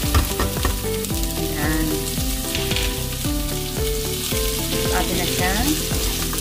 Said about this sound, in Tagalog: Ayan, mainit na yung ating olive oil. Lagyan na natin yun ang ating quinoa.